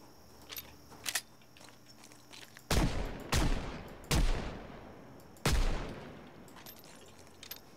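Gunshots ring out in the zombie-survival video game Project Zomboid: four loud, sharp blasts with ringing tails, spaced about a second apart, after a couple of quieter clicks, with no talking.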